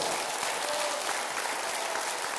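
Dense, bright applause from a concert audience at a show, a steady uniform roar of many hands clapping with no voices on top.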